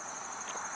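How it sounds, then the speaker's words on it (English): Crickets chirp outdoors at night in a steady, faint, high-pitched drone that runs unbroken through the short stretch. "You definitely get the hearing of all the little critters that are above my head, the crickets and stuff. You can hear them chirping."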